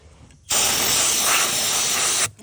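A spray cleaning the underside of a Can-Am HD7 after an oil and differential fluid change, one steady, loud hiss that lasts nearly two seconds, close by and alone.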